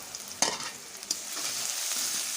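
Hilsa fish sizzling in a hot pan, a steady close frying hiss with a few sharp crackles and stirring knocks, no talk.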